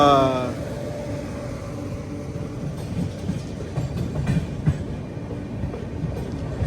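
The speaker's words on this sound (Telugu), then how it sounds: "కడప స్టేషన్ బయట అయితే ఉన్నాం, స్టేషన్ లోపలికి వెళ్తున్నాం ఇప్పుడు" A train rolls slowly into Kadapa station with a brief horn at the start, then steady wheel rumble and rhythmic clatter over points, close and moderately loud.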